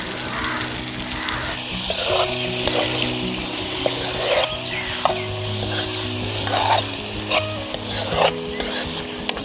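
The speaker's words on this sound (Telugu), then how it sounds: "ఇప్పుడు పచ్చిమిరపకాయలు కరివేపాకు వేసుకుందాం" Chicken fry sizzling in a pan with green chillies and curry leaves: a loud, steady frying hiss throughout, broken by scraping stirs and a few clanks of a utensil against the pan.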